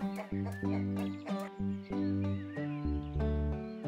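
Chickens clucking in a farm video game, a steady run of loud, close, repeated clucks and squawks in a busy rhythm with no talking.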